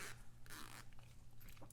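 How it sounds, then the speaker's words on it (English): A zipper on a sewing project is pulled open in short rasping bursts, close and quiet, with pauses between strokes. "I'm actually going to open up the zipper"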